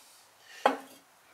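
A ceramic pot is set down while a pottery kiln is being packed, making one quick, light clink in an otherwise quiet space.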